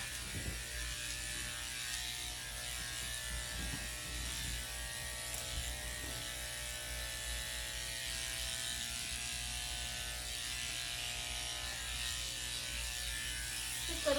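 Electric clippers shaving the belly of a goldendoodle dog during home grooming, a continuous close buzzing drone with a faint ratcheting texture that holds steady for the whole stretch.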